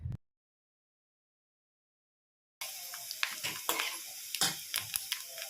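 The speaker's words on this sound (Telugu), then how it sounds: "పోపు దినుసులు వేగుతూ ఉంటే నాకైతే చాలా మంచిగా అనిపిస్తుంది" Tempering spices with asafoetida sizzle in hot oil, heard after a long silent gap as a close crackling fry broken by sharp stirring and utensil clicks.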